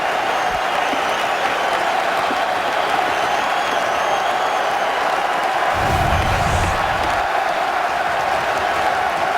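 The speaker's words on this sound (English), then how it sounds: "How about a standing ovation at Madison Square Garden?" Hockey crowd at Madison Square Garden during an Anaheim Ducks versus New York Rangers game, giving a standing ovation: a sustained, loud roar of cheering and applause with a low rumble swelling midway.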